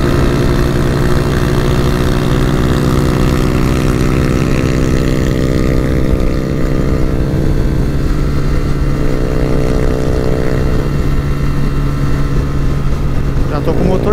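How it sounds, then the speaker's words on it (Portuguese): Carbureted or fuel-injected 4mm-stroked motorcycle engine revving hard, a loud sustained harmonic drone that holds steady before dipping near the end, with voices talking over it. "Já tô com o motor cheio aqui"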